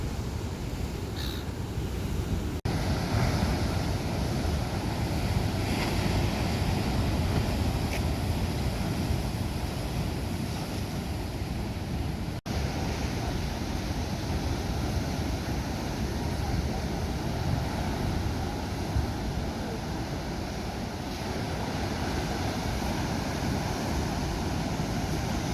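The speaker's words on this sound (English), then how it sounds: "these waves are about 15 feet high, probably more. They're hitting the pool around the side." Large ocean waves roughly fifteen feet high crash against the side of a pool, a continuous loud roaring surge with wind buffeting the microphone throughout.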